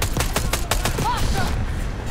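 Rapid gunfire from Call of Duty Black Ops 6 on PC, a quick run of sharp repeated shots over about two seconds, loud and close, with game sounds layered around them.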